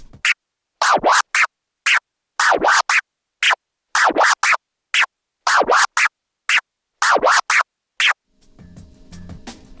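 A DJ controller plays a combined rolling scratch pattern of baby and stab scratches: about eight seconds of crisp, rapid scratch bursts in repeating military-style groups, loud and close, then a soft trailing hum.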